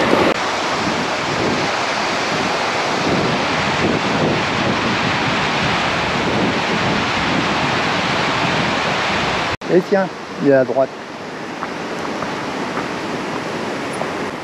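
Small waterfall at the Neda falls in Greece gives a loud, steady rushing roar with wind buffeting the microphone, and a voice speaks briefly in French over it near the end.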